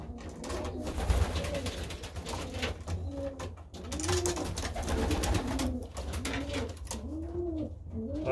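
Pigeons in a loft coo repeatedly in soft, rolling bursts, several overlapping calls close by against a low background hum.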